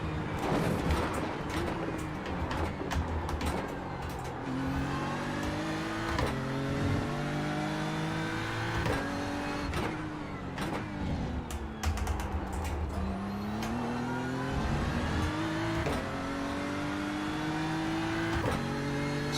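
A BMW GT3 race car in a racing simulator, engine note droning steadily and rising and falling through repeated gear changes, with faint keyboard-like clicks scattered across it.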